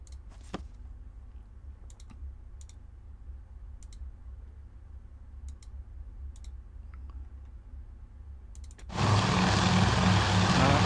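Carrier aircraft launching for an airstrike from the Hornet in the Task Force Admiral naval game: a steady low engine drone with sparse faint clicks, then a sudden loud, broad roar near the end.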